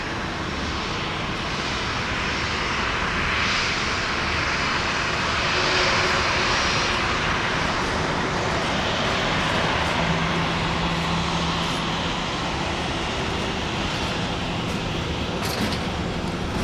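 Airplane engines at Dallas Love Field airport, a steady loud whine and roar of jet turbines running continuously at close range, with no talk over it.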